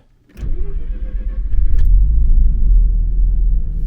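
A Mazda RX-7 FC rotary engine cranks briefly and then catches, settling into a loud, close, deep rumbling idle.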